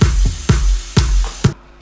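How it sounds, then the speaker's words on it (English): Electronic dance track drums: four heavy, punchy kick hits spaced evenly about half a second apart, each with a deep booming low end and a bright click on top, loud and alone. "All the drums sound like this."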